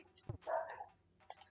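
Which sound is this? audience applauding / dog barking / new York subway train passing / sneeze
dog barking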